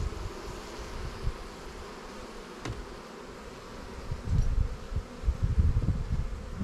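Honeybees buzz in a dense, droning swarm close by at an open hive, the hum swelling louder toward the end with faint rustling beneath.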